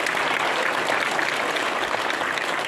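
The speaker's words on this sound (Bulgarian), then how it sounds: "аплодисменти" Audience applause at a theatre awards ceremony in the town of Gulyantsi, Bulgaria: dense, steady clapping from a full hall, sustained and even throughout with no talk over it.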